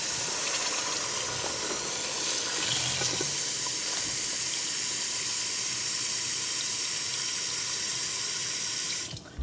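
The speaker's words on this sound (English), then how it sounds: "Now I'm adding some water." Water pours steadily from a tap into a pot of frying mutton, a loud continuous hissing gush that runs unbroken for several seconds and stops abruptly at the end.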